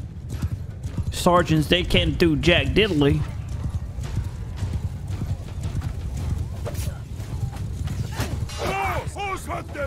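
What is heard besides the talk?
horses galloping in the video game Mount & Blade 2: Bannerlord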